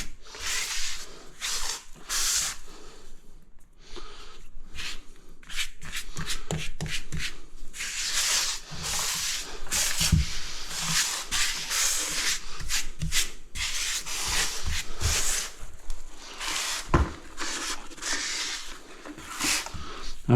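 Steady wet rubbing and scraping as a wash boy wipes grout off 600x600 mm porcelain tiles with narrow 1.5 mm joints, close and continuous with short breaks and strokes that rise and fall.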